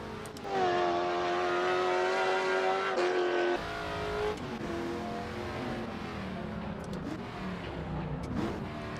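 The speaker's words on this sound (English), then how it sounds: "going through the gears, revving up, and then getting to the point where you have to downshift in a turn" A 1967 Chevrolet Camaro SS engine revs hard through the gears, with a loud rising tone that drops at a shift and climbs again, heard up close with faint tire noise and no speech.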